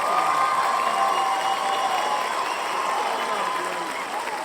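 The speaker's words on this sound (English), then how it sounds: "Let's get a little cheering for Frankie." Audience cheering and applause during a New Year's talk show, a steady, dense wash of clapping and crowd noise that holds at an even level for several seconds.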